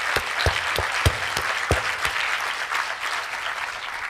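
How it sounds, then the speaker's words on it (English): A medical conference audience breaks into a round of applause, a dense patter of clapping with a few sharp, close claps standing out, holding steady at moderate loudness. "Round of applause."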